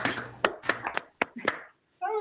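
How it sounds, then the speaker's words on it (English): A few scattered hand claps from remote participants unmuting over a video call after a physics colloquium, uneven and sparse, with muffled voices between the claps. "let's all unmute and we can do the awkward Zoom clapping"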